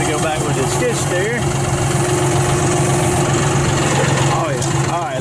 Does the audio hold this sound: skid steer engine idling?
yes